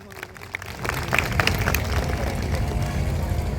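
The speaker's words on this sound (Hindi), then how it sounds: "एक बार जोरदार तालियां।" Audience applause at a Hindu gathering (Hindu Sammelan) in Avadh Vihar, Lucknow, rising after a quiet start into steady broadband clapping from a crowd that continues to the end.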